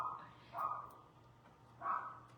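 A wiener dog gives two muffled barks about a second and a half apart, somewhat distant, against a quiet indoor background.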